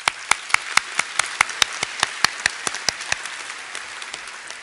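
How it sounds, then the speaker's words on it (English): Applause at an awards ceremony for a signal processing society, heard as sparse, distinct individual claps in an even rhythm, about a dozen sharp hits over a quiet room background that thin out toward the end. "please let's also congratulate him with a round of applause"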